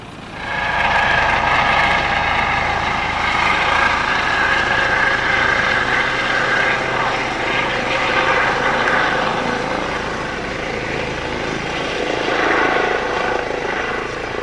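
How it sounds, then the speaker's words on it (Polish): An air ambulance helicopter landed at a road accident scene, its steady rotor roar and engine drone loud and close throughout, with a slight dip midway before swelling again. "Na miejscu wylądował śmigłowiec lotniczego pogotowia ratunkowego."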